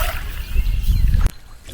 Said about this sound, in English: let's hop back in the canoe and just go paddle a little bit